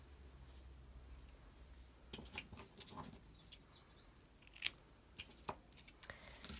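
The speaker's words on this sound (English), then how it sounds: "And then last finishing touch is to cut a piece of your ribbon." Quiet, close scissors snip a piece of ribbon for a Christmas tree advent craft, a few soft irregular cuts and rustles against a faint room background.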